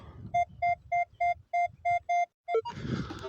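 A metal detector sweeps over a buried coin about half a metre down in a Ukrainian field, giving eight evenly spaced, clear beeps, then a quick warbling tone shift followed by scraping soil.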